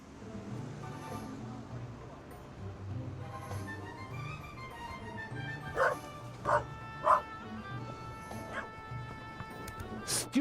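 A dog barks in the game The Raven Remastered, several sharp yaps spaced across the middle of the clip over a low ambient music bed, with a voice talking in the background.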